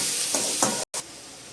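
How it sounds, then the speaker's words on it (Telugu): Thinly sliced onion pieces sizzle in hot oil in a home kitchen, a steady close hiss with a couple of stirring swells and a brief cut in the middle. "వేడి వేడి నూనెలో సన్నంగా జరిగిన ఆనియన్ పీసెస్ అయితే వేసేసాను."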